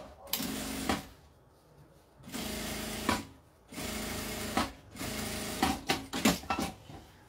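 A sewing machine stitches fabric lining in several close bursts of fast mechanical whirring, each separated by short pauses and clicks.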